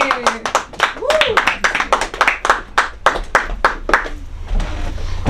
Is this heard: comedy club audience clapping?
yes